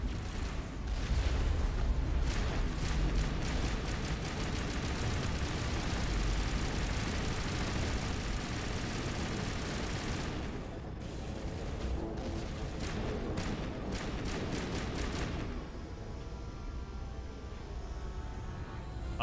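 Turrets firing in Mass Effect, a dense, sustained barrage of rapid shots and booming impacts, loud and continuous before thinning out toward the end, with no talking.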